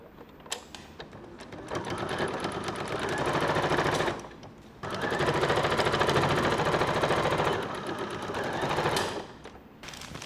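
A domestic sewing machine stitches the side seams and sleeves of a lace christening gown, running in bursts of rapid rattling hum with brief pauses between, close and loud.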